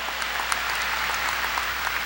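A congregation claps together during a 1992 Sunday church service, steady dense applause from a crowd heard alone at a moderate level.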